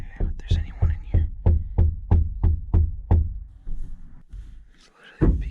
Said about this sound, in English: He's literally knocking on my truck.